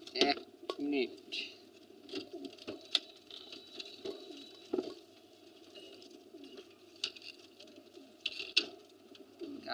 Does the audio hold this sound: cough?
no